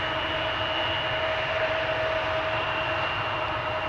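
Steady broad roar of KLM airliners at Amsterdam Schiphol Airport, a continuous distant jet rumble with faint sustained whine tones, no voices over it.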